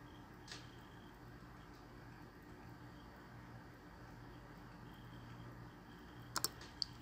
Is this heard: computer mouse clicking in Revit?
yes